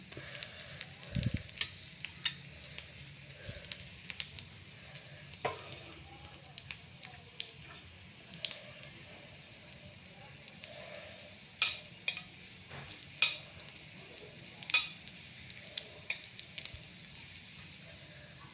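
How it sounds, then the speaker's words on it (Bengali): Garlic and spices for a dal tempering sizzle in hot oil in a pan, a faint steady crackle broken by sharp clicks and stirring scrapes of a utensil against the pot. "দেখুন সুন্দর করে আমি সম্বার দিয়ে নিব"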